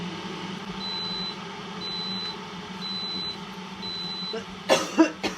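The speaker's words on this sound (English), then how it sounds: "I'm still coughing today." A few quick coughs near the end, following several seconds of steady low hum with faint intermittent beeps.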